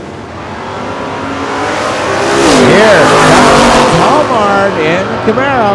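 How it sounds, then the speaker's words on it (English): A 1970 Camaro with a 427 and a 1975 Vega roar down a drag strip together, their engines loud and close and rising in pitch as they rev and accelerate, with a crowd or announcer faintly audible. "Camaro chasing down Frisbee in the Vega at the stripe."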